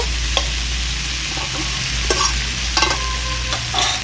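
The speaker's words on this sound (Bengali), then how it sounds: "সব কিছু এবার ভালো করে কষিয়ে নেব" Chana masala ingredients stir-fried in a pan: a steady sizzle with repeated scraping strokes of a spatula at an uneven rhythm, close and fairly loud, with no voices.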